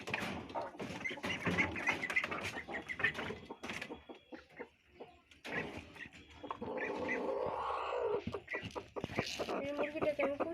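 A hen in a village coop clucks while being given chopped feed, with repeated short clucks and squawks close by, some rising into longer calls.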